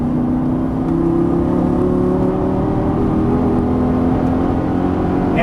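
A Lamborghini Gallardo engine under full throttle on a track, a loud sustained roar with steadily rising pitch, heard up close from inside the car.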